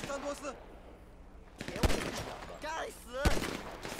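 Gunfire from the video game GTA 5: two sharp, loud shots ring out close together mid-clip amid game noise, with a brief burst of voice near the start.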